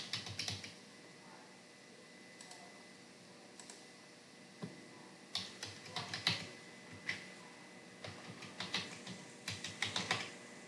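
Quiet keystrokes on a computer keyboard while a folder name is typed, sparse taps at first, then faster irregular bursts of clicking, close and with no talking.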